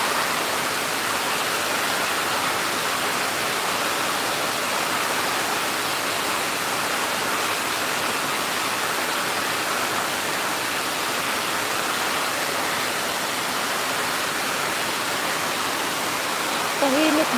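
Heavy rain falls steadily on a rainy afternoon, a dense even hiss that holds at the same level from start to finish with no breaks.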